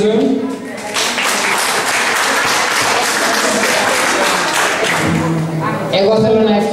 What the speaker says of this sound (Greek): να χειροκροτήσουμε τα κορίτσια γιατί το αξίζουν